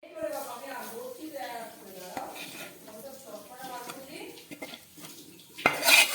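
A lid is set on a cooking pan with a single sharp clank near the end, after utensil clatter and a voice talking throughout.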